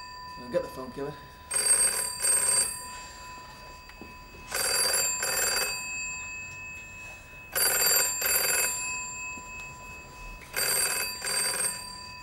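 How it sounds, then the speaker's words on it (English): An old telephone bell rings in four long bursts with pauses between them, loud and close, with brief talk early on. "Get the phone"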